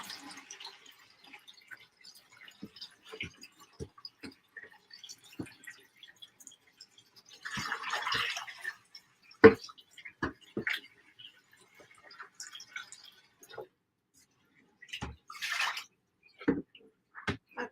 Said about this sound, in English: I'm not rinsing the yarn, I'm just going to rinse the can.